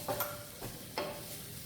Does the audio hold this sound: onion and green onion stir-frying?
yes